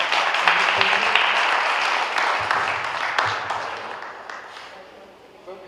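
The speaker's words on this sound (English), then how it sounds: "I will give them a round of applause." Applause from the audience at a summit event gradually fades over several seconds, many hands clapping at first and then thinning out toward the end, with a voice faintly present beneath it.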